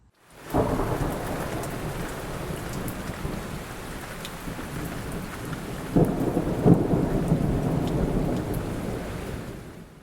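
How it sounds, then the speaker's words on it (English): Steady rain falling outside a garage, a dense hiss of drops striking surfaces that starts abruptly and continues, with a couple of louder patters and distant rumbles mixed in. "it's still raining"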